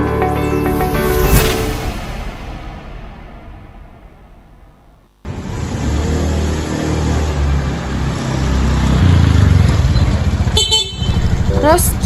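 A new motorcycle staged as a radio drama sound effect, with a horn tooting and the engine revving up, then settling into a loud, steady running drone close by that continues to the end.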